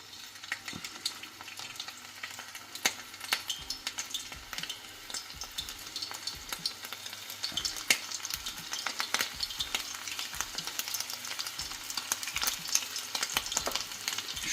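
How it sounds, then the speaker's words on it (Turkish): Oil sizzles and crackles steadily as manti dumplings fry in a pan, a dense hiss with scattered pops and occasional stirring clinks. "Ama ben yağda kızartacağım."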